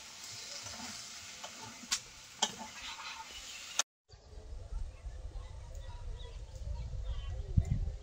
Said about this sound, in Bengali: আলুটা ভালো করে কষিয়ে নিয়েছি